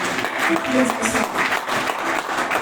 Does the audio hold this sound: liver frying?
no